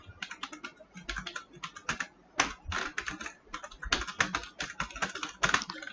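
Code is typed on a computer keyboard in quick bursts of close, clicking keystrokes with short pauses between runs, no voice over it.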